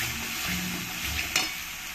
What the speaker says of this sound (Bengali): এবার এর মধ্যে দিয়ে দেবো এখন আদা রসুন পেস্ট, দিয়ে ভালো করে মিশিয়ে নেব।